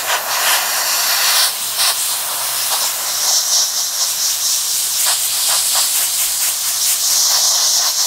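Aerosol spray cans hiss steadily while painting a side panel of a Sturmgeschütz III Ausf B model, a close continuous spray with brief breaks and several short bursts.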